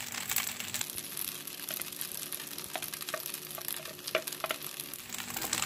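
Macaroni chaat being stirred in a pan with roasted peanuts and fried onion, a steady scraping, crinkly mixing sound with faint sizzling from the still-lit gas, continuous and close with no talking.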